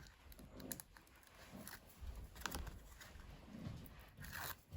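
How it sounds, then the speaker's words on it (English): Backing being peeled off small acetate pieces for a handmade card: faint crinkly tearing and ticking plastic sounds in short close bursts, with no voices. "I will peel these off"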